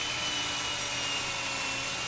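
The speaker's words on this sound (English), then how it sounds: "that is quite a short drill, and it's just about long enough for the tang" A power drill bores a hole for the tang of a knife forged from a farrier's rasp, a steady, loud whirring grind that runs continuously without pause and with no voices.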